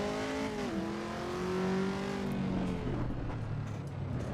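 A race car engine in the Assetto Corsa EVO sim revs up through rising and falling gears, a steady droning note that shifts pitch across several changes, with no talk over it.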